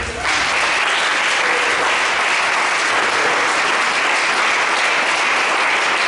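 A congregation claps loudly and continuously during a church service, a thick unbroken wash of applause lasting the whole few seconds with no pause.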